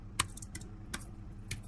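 Linux commands being typed on a computer keyboard: a few sparse, quiet key clicks spaced irregularly, close but faint over a low steady hum.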